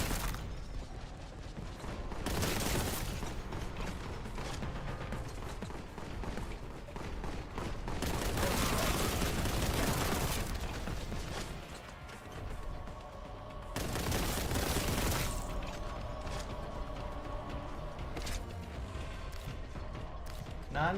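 Repeated bursts of gunfire from the retro shooter Warhammer 40,000: Boltgun, loud and dense in several waves with mechanical clatter between them, no talking.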